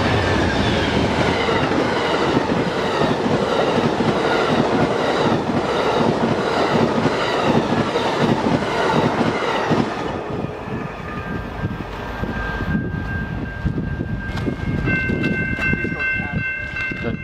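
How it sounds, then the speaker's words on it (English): An eastbound Amtrak Capital Limited passenger train with a P32-8WH locomotive passes close and fast on the Chicago line, its wheels clattering loudly before squealing tones linger as it draws away. "the Amtrak Capital Limited is coming in hot eastbound on the Chicago line with a P32-8WH third out."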